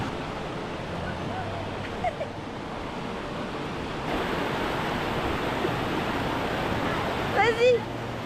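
A river rushes with steady broadband roar on a mountain hike in Nendaz, Switzerland, close by, with wind buffeting and brief voices near the end.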